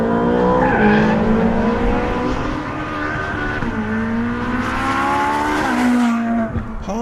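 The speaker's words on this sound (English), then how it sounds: "It's allowing me enough throttle to get the back end out, but not so much that you turn the car around." A Ferrari 458 Speciale slides with its back end out under throttle. Its high-pitched engine wails and shifts pitch over squealing, skidding tyres, loud and close throughout.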